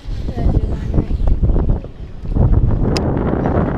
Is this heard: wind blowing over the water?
yes